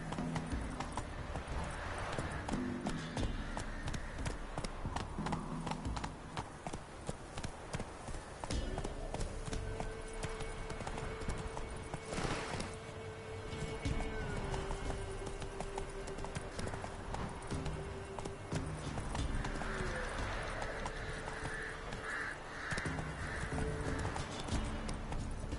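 Hooves pound in a fast, regular clip-clop as a horse gallops in the Witcher 3 game, steady and close throughout, with a faint whinny and background game sounds.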